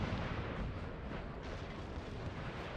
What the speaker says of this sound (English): Just artillery.